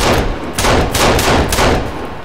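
Gunshots in the survival game Sons of the Forest, three or four loud, evenly spaced shots fired against a steady noisy background.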